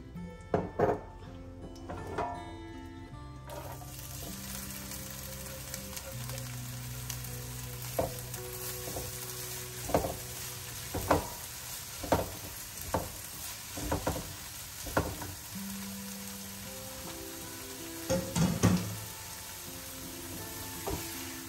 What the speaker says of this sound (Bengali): তারপরে এটা একটুখানি গ্রিন বিনটা করে ফেলবো, একটু ভেজে নিব